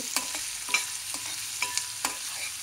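Onion and a green chili fry in oil with tempering spices, a soft steady sizzle broken by several sharp stirring clinks and scrapes of a spoon against the pan, close and fairly quiet.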